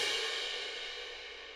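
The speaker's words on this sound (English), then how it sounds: "Then we have the orchestral cymbals, which these are the main ones I use." Orchestral cymbal from a percussion sample library, a single bright, washy crash already ringing and slowly decaying over a long shimmering tail, heard alone.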